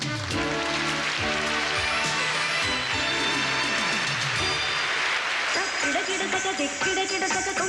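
A large audience at a 1987 Miss Universe pageant applauds steadily, a dense, sustained wash of clapping heard under music for the whole stretch.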